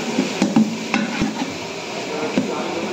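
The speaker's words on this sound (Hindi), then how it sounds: "बकरे की बोटी फ्राई।" Goat mutton boti pieces fry in a pan with oil, curry leaves and green chillies, giving a steady close sizzle broken by a few sharp clinks of a utensil against the pan.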